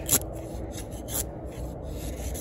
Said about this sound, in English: it's definitely making curls